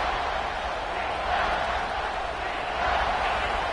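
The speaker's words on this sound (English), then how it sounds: "with this place rocking, the crowd forces a false start" A loud stadium crowd roars steadily through a college football game between Florida and Oklahoma, a dense, unbroken wall of noise that swells slightly in waves.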